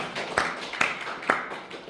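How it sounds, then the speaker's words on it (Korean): Congregation clapping in praise to God during a church sermon broadcast: three sharp, spaced claps or beats at a steady rhythm, moderately close, with no talk over them. "하나님께 박수로 영광드리겠습니다."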